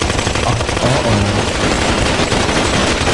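Dense, loud gunshot sound effects crackle continuously, like rapid automatic bursts blending into one steady barrage.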